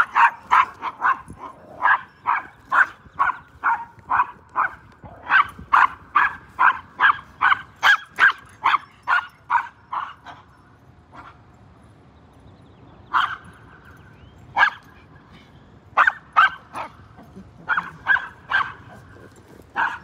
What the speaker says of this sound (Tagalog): nag-umpisa na yung aking barking dog